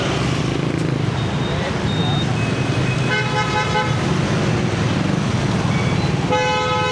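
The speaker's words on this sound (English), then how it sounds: "So there's also lots of honking here." Car horns toot repeatedly over a constant roar of engines and road noise, several overlapping honks sounding close in busy District 1 traffic in Ho Chi Minh City.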